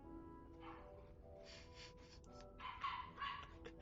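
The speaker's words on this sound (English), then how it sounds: "Also, sorry for the dogs barking." Several dogs bark in short bursts and quick clusters at moderate distance indoors, the barking growing busier toward the end over a low background hum.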